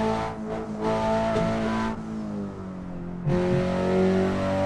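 A race car in Assetto Corsa on the Nürburgring at full throttle, its steady, close engine roar climbing in pitch, broken by two abrupt gear-change dips, with no voices.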